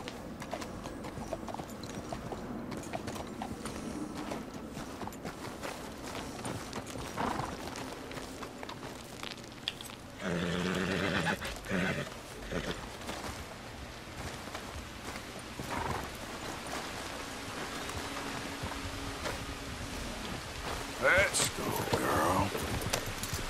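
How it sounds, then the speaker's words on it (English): Horse hooves clip-clop steadily through Red Dead Redemption 2 gameplay, with an occasional whinny, while a player talks over the game sounds. "there's another horse over there."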